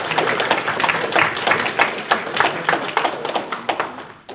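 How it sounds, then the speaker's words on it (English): An audience at a chapter meeting applauds a speaker with a dense burst of indoor clapping that holds steady and then gradually thins out. "Can we get a round of applause?"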